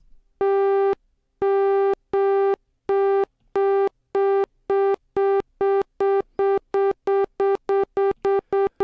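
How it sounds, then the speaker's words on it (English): A steady synthesizer tone on an iVCS3 iPad synth, amplitude-modulated on and off by a square wave from oscillator 1, chopped in regular bursts, the pulses speeding up and growing shorter until they stutter rapidly, with no voices. "modulating the amplitude on and off via a square wave of oscillator 1"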